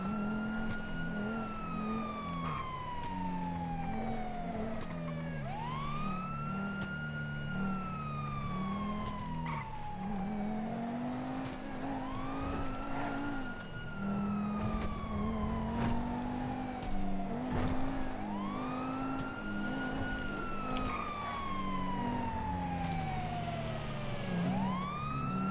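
Ambulance siren from the game GTA V, wailing in repeated rising and falling sweeps over a steady vehicle engine rumble, loud and continuous throughout with no talk.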